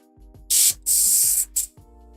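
Airbrush spraying paint onto a Warhammer miniature: three bursts of bright, close hiss, the middle one longest, separated by brief pauses, with a low background hum.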